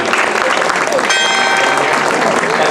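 Crowd clapping outdoors at the unveiling of the restored town hall facade and clock in Villaricca, Naples: steady, dense applause with a brief ringing tone partway through and voices heard over it.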